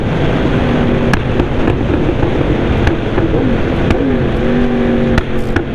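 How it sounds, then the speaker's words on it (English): Wind buffets the microphone of a moving motorcycle, a steady roar of rushing air over a droning engine hum, with occasional sharp gusts and ticks. "Bloody windy as well."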